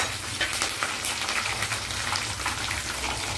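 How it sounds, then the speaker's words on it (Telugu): A tempering of cumin, chana dal and urad dal fries in oil, making dense, close crackling and spitting like light rain on a surface. "ఇగో దానికి సరిపడ్డ నూనె తీసుకొని పోపు అయితే వేసుకుంటున్నానండి."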